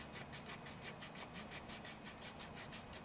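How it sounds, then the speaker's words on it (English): Sanding mesh rubbed by hand across a corroded, heat-damaged switch contact on a Lincoln 225 amp tombstone arc welder, giving steady back-and-forth rasping strokes, close and fairly quiet, with no talking. "sand this contact,"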